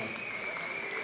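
A crowd at a professional boxing gala in Falkensee applauds both fighters after the bout, a brief, dense, steady burst of clapping with a voice faintly present.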